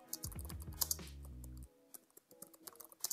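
Keys clatter on a computer keyboard while Python code is typed, a quick irregular run of close, crisp clicks with short pauses between bursts.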